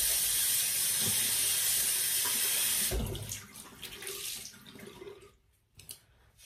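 Tap water runs steadily into a sink during face washing, a close, bright hiss for about three seconds, then stops and leaves softer splashing and dripping.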